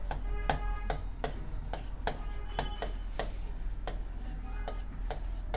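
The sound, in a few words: writing on a board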